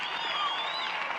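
Applause and clapping from a studio audience on a talk show, a steady dense patter that fills the whole short moment at an even level with no voices over it.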